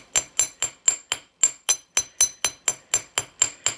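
Copper wire being hammered to texture a wire-wrapped bracelet: about fifteen sharp metallic strikes at a brisk, fairly steady pace, each ringing briefly before the next blow.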